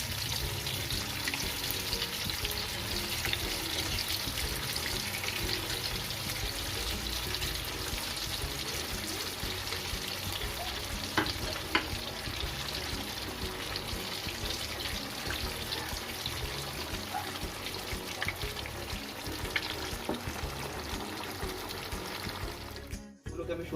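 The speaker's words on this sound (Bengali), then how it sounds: "এবারে আমি আস্তে আস্তে কাবাবগুলোকে এর মধ্যে ছেড়ে দেবো আর মিডিয়াম টু লো ফ্লেমে ভেজে নেবো ভালো করে লাল লাল করে।" Chicken shami kababs fry in hot oil over a medium-low flame, giving a steady, dense sizzle that runs unbroken near the pan with a few faint clinks, then cuts off abruptly at the end.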